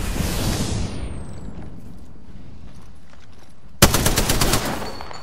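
Gunfire in Apex Legends: a rapid automatic burst cracks in suddenly near the end, loud and close, following a quieter stretch of game ambience and a fading whoosh.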